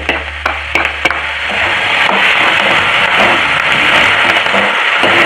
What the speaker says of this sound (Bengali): এবার পোস্তটা একসঙ্গে ভেজে নেবো, পোস্ত কাঁচা গন্ধটা চলে যাবে